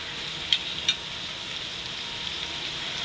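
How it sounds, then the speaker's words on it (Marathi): Onion sizzles steadily while frying in a pan, a constant close crackle with two brief clicks near the start. "व्यवस्थित परतवूया आपण लालसर होत आलेला आहे कांदा"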